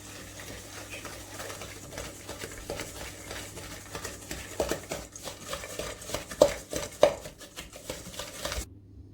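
A maple and pecan mixture is stirred and mashed into a paste in a bowl, giving irregular soft scrapes and taps of a utensil that sharpen into a few louder knocks toward the end.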